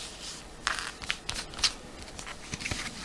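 Tarot cards are drawn one after another from a deck, giving soft papery slides and crisp flicks spaced irregularly over a few seconds, close and quiet with no talking.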